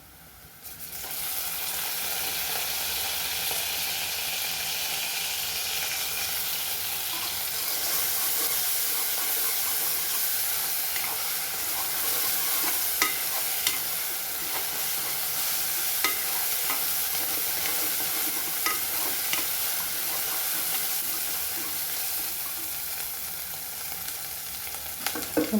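Ginger garlic paste sizzles in a pan with sautéed onions for a vegetable kurma. A steady, close frying hiss runs throughout, with the scrape and clatter of stirring over it and no talk.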